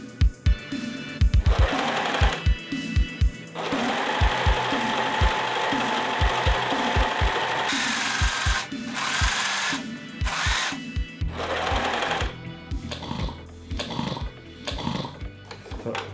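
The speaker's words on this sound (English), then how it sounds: "I'm just gonna sew pieces of fabric together" A serger sewing machine stitches light patchwork fabric pieces together in loud, rapid whirring bursts, stopping and restarting several times with short pauses between runs.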